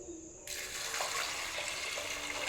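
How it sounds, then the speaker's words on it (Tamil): Water poured from a vessel into a pressure cooker holding lentils with turmeric and ghee, a close, steady splashing gush that starts abruptly after a short quiet moment and keeps running to the end. "இப்போ தேவையான அளவு தண்ணி விட்டு"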